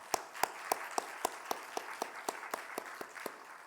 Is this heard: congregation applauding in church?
yes